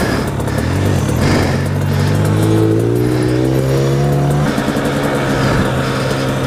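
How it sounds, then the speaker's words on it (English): A dirt bike engine screams through a wild whiskey-throttle rev at Porterville OHV, loud and close, its pitch climbing steadily and holding high before easing off, with no talk over it. "Foot came off the pegs, whiskey throttled like crazy"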